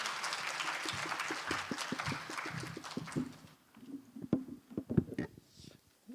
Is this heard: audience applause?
yes